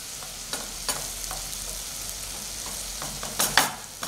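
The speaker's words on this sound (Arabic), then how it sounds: "نشحر البصله" Onion sautés in butter in a frying pan with a low, steady sizzle and a few light scraping stirs, and a brighter clatter comes near the end.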